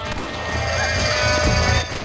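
Gunfire in the video game Red Dead Redemption: a burst of rapid shots crackling over a dense, rumbling game backdrop, fairly close and continuous for about two seconds.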